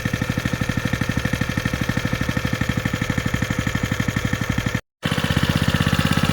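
Small engine low on oil and smoking, idling with a steady rapid chugging pulse, close and even, with one brief dropout near the end.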